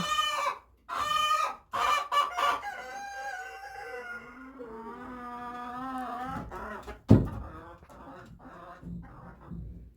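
Hens cluck and squawk nearby in a coop, with one drawn-out, rising cackle and a few sharp noises, fairly faint in a quiet space.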